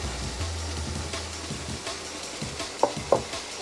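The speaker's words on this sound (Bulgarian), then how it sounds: "Разбърквам отново." Chili con carne with coriander, cumin, chili and tomato purée being stirred in a pan, a steady soft sizzle with a few sharp utensil clicks against the pan near the end.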